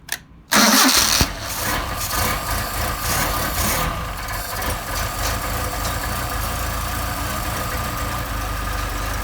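A cold engine fitted with a German Motorwerks Solex carburetor cranks briefly, catches with a loud burst, then drops into a steady, even idle that runs on close by without talking.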